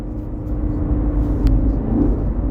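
A Chevrolet Camaro SS engine pulls away with a deep, steady rumble heard from inside the car, fairly loud and without a break.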